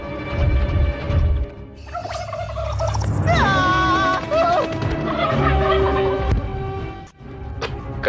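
Cartoon fowl calls in a Hindi-dubbed animated movie, a loud, warbling run of gobbling, clucking cries over busy background music and effects, close and continuous for several seconds.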